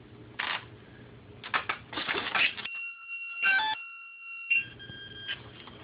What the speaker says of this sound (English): this little beeper is going to make 2 loud beeps